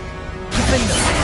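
A Confringo blasting spell fired in a Harry Potter video game, a sudden loud burst erupting about halfway through after a quieter lead-in and sustaining as a dense, crashing roar to the end.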